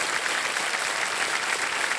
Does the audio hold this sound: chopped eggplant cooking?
no